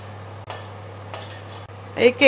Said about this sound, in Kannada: ಜೊತೆಗೆ ಸ್ವಲ್ಪ ಇಂಗು, ಎಲ್ಲಾನು ಸ್ವಲ್ಪ ಹುರ್ಕೊಳ್ಳೋಣ